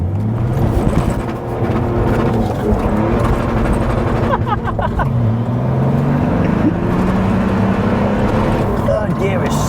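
M57-swapped BMW E46 Compact with 350 bhp, a diesel from a 320d, pulling hard in third gear, recorded inside the cabin as a loud sustained engine roar whose pitch climbs, with people chatting over it.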